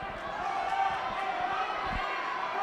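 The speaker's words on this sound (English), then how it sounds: "you can hear the crowds getting amped up" Crowd at a Section 8AA high school wrestling match roaring and cheering steadily throughout, a dense wash of voices with occasional thumps underneath.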